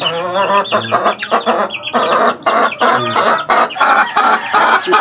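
A mother hen and her chicks cluck close by, loud and steady, with repeated short bursts and overlapping calls on a small backyard poultry setting.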